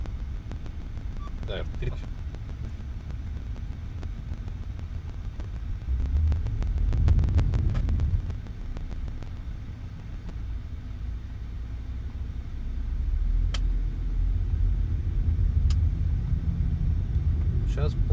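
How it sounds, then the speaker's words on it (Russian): An Audi A6 C7 2.0 TFSI engine accelerating smoothly from inside the car: a steady low rumble that swells, eases back, then builds again, with a voice heard over it. "сейчас плавно пытаюсь ускориться"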